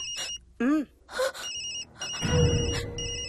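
In a horror film scene, a mobile phone rings with a high electronic tone in repeated bursts, while a voice gasps and moans between the rings.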